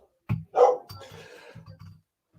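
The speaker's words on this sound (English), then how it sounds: "And there's the dog barking as well." A dog gives a single sharp bark followed by a few softer low grumbles and short noises, fairly close, with no talking.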